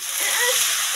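Water pours into a hot pan of frying khichdi masala, a brief dense rushing splash that stays loud and steady for about a second.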